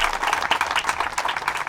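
A solid crowd at a disc golf pro world championship claps steadily for a player at the tee, producing dense, continuous applause that holds at an even level throughout.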